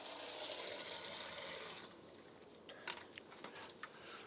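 Cold water splashes lightly onto garden plants, a steady broad hiss for about two seconds, then stops, leaving a few faint drips and small splashes.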